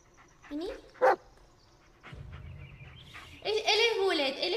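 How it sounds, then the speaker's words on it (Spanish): A dog barks in the horror video game Blair Witch, with one sharp loud bark, a few softer yips, and breathy panting and whining mixed under a man's speech. "Escucha su ladrido y mira el lenguaje de su cuerpo."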